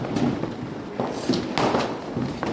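Several sharp pops and crackles go off at uneven intervals, bursts of fizzing and thuds from a nearby spinner firecracker and other Diwali fireworks.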